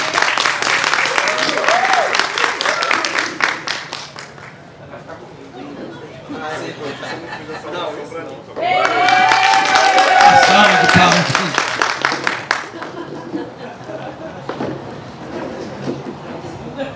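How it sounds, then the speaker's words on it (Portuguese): An outdoor crowd in a town square claps to welcome two pastors to a panel table at a public talk on the Protestant Reformation. A burst of clapping opens, then loud amplified voices take over with scattered murmur. "Uma salva de palmas para esses dois."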